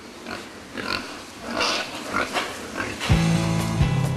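Pigs on a pig farm grunt and squeal in a scattered chorus at moderate distance, irregular snorts over a noisy barn background, with a steady mechanical hum setting in toward the end.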